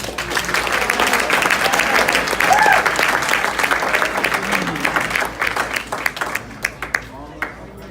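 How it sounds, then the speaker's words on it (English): A room at a high school band banquet applauds the seniors: full clapping with scattered cheers and a whoop, dense at first, then thinning into a few separate claps near the end. "All right, applause for the seniors."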